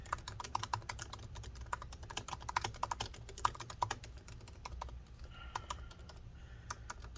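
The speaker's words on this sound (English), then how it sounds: "I was just typing the quick brown fox jumps over the lazy dog so I can make sure all the alphabet works" Keys clatter in a quick, irregular stream as someone types on the keyboard of a 2017 13-inch MacBook Pro A1708, close and fairly quiet, with a short pause before a few final taps.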